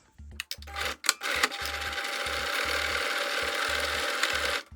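A sewing machine stitches the first seam of a folded fabric seedling bag, opening with a few short clicks and handling sounds, then running in a steady, close mechanical whir that stops abruptly at the end.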